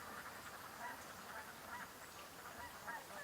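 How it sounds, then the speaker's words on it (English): Canada geese circling over a house, their honks coming as faint, distant calls scattered across a steady background hiss, with no talking. "So we've just got a ton of Canada geese circling."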